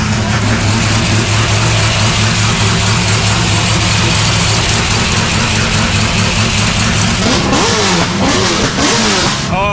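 A drift car engine at a Drift Masters event in Spain, loud and close, a steady heavy rumble that swells into revving toward the end, with no talking.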